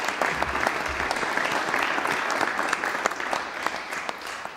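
An audience at a University of Ljubljana academic awards ceremony applauds an absent award recipient, with continuous mid-level clapping holding steady across the whole stretch and a few sharper claps standing out.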